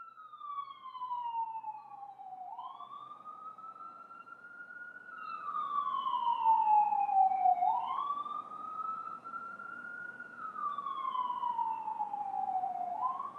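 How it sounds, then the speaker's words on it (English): A wailing siren rises and falls in long sweeping cycles, clear and fairly loud, with a second siren faintly overlapping. "Do you hear the sirens?"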